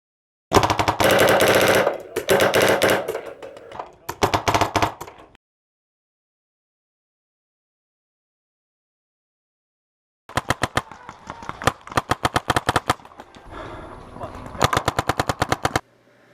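Two bursts of rapid automatic firing from a toy gel blaster, sharp, abrupt clicking shots in fast strings, separated by several seconds of silence; close and loud.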